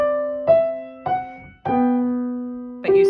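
Piano plays a short phrase from Bach's Minuet in G BWV Anh 114, four separate notes in turn with small gaps between them, each ringing and fading before the next, close and clear with no talking.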